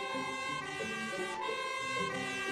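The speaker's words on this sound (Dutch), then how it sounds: "Camille, dat is een sirene." A fire engine siren blares steadily and loudly throughout, with a continuous tonal wail and no voices.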